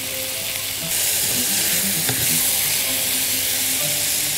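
A pan of chicken casserole with cream gives a dense, steady sizzle and bubbling hiss as it is stirred, growing louder partway through.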